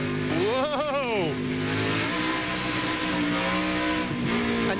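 Race trucks at the 1999 O'Reilly Auto Parts 200 roaring along the track with throttle revving and a rising engine whine, tires squealing, under excited commentary.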